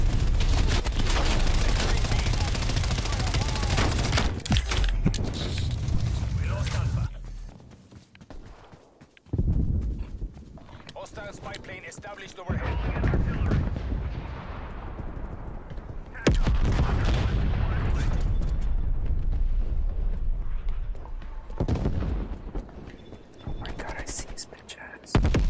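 Artillery barrages and gunfire in a video game's battle, with heavy booming blasts and dense bursts recurring through the clip, loud and close, with brief quieter lulls between salvos.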